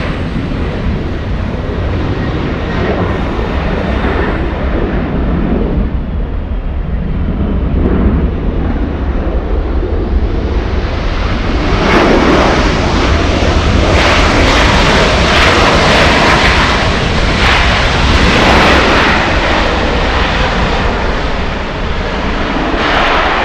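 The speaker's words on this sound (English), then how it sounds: "we have a Delta Airlines 757 flying in from Boston" A Delta Air Lines Boeing 757 arriving from Boston makes a loud, sustained jet roar, with a hiss that builds and swells midway as the aircraft passes close. No voices are heard.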